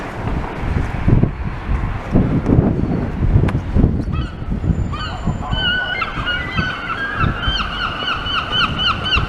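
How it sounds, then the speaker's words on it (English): Seagulls call repeatedly, their cries growing more frequent in the second half over a blustery background of wind and surf in Blackpool town centre. "So many seagulls we can hear."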